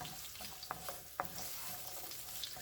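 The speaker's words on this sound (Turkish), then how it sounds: "Havucu yağ rengini verene kadar orta ateşte kavuralım." Chopped carrots frying in butter over medium heat make a steady, soft sizzle, with a couple of quick stirring clicks from a utensil.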